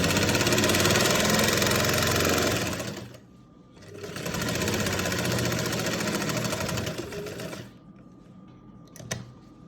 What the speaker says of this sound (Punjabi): ਇੱਕ ਇੱਕ ਪੈਰ ਦੀ ਇੱਧਰ ਸਲਾਈ ਲਾ ਲੈਣੀ ਹੈ